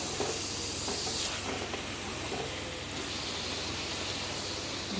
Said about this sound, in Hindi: प्याज के साथ गोश्त को इस तरह 2 मिनट तलेंगे